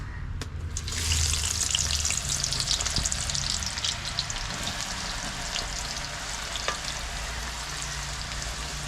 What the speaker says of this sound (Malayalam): അപ്പോൾ നമ്മുടെ എണ്ണ മൂത്തിട്ടുണ്ട്. ഇനിയിപ്പോൾ നമുക്ക് സവാള ഇട്ട് കൊടുക്കാം.